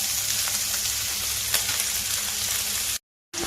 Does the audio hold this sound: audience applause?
no